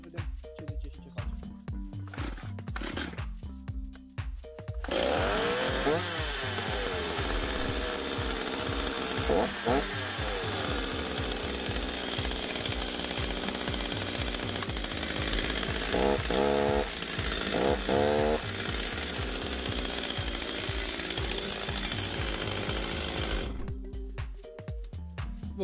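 A repaired Stihl MS 230 chainsaw with a replaced cylinder and carburetor starts and runs, its two-stroke engine roaring loud and close for about eighteen seconds with revving bursts, framed by quieter idling before and after.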